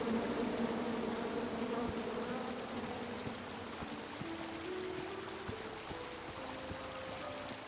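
A swarm of angry bees pours out of a chopped-down tree in the King's Quest video game, a continuous close buzzing drone that holds steady for several seconds with low tones under it and no speech.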